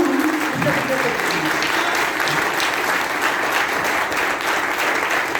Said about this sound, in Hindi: ताली बजाए जाए